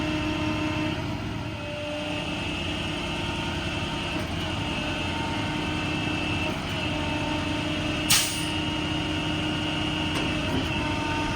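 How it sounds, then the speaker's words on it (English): A crane winch lowers on a 2015 Ford F750 mechanics truck with a Maintainer service body and Cummins diesel, heard as a continuous, even mechanical drone with the engine running, plus one brief sharp hiss near the end. "I'm going to let it winch down a little bit so I can extend it all the way out."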